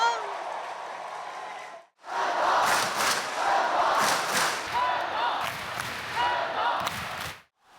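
A large indoor arena crowd roars and chants for the Hong Kong team at a men's handball bronze-medal match against Beijing in Kai Tak; dense, loud, sustained cheering with rhythmic surges and thuds, briefly cutting out near two seconds.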